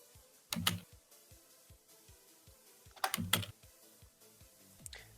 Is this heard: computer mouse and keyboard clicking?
yes